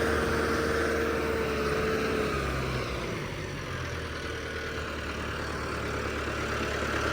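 A Mahindra tractor with an upgraded CRDi engine, 25 hp added, pulling a harrow over rain-wet soil. The engine drones in a steady low rumble throughout, shifting slightly in pitch partway through, with no talk.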